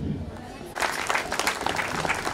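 Applause for the performers at a school year-end closing ceremony: after a brief quiet moment, a room full of people bursts into steady, dense clapping that carries on to the end.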